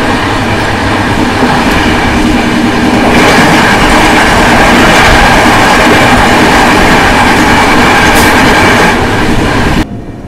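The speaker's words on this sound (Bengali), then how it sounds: "দেখো ছেড়ে দিল আমাদের ট্রেন ব্যান্ডেল জংশন স্টেশন থেকে।" Passenger train pulling out of Bandel Junction station on the Howrah to Dibrugarh route, a loud, steady rumble of wheels and carriages with rhythmic clatter heard from on board, continuous throughout before dropping off at the very end.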